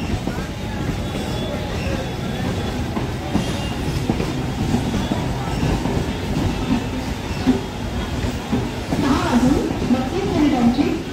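A Mumbai local train pulls in at Dombivli station platform, its rumbling carriages and wheel clatter filling the scene with crowd noise and voices mixed in, growing louder toward the end.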